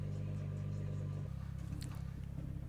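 A BMW 335i with the N55 engine runs at a steady low idle rumble as the car rolls off a ramp after an oil change, its tone dropping and thinning partway through.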